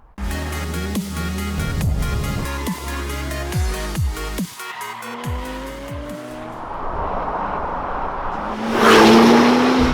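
A Porsche 997 911 GT2 RS with a manual gearbox revs and shifts through gears with rising and falling pitch, followed by a tire squeal near the end.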